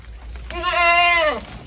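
A single close, loud goat bleat, a wavering nasal cry lasting about a second.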